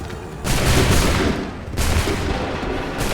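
Two loud bursts of massed musket volley fire from Assassin's Creed 3, each a dense crackling roar lasting over a second, the second volley following shortly after the first, close and full.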